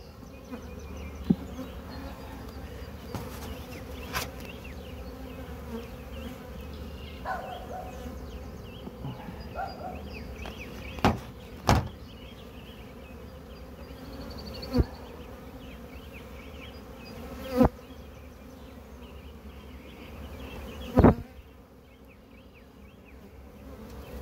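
Steady buzzing of many honeybees in an open, queenless hive hums continuously up close, with occasional sharp clicks and bumps cutting through the drone.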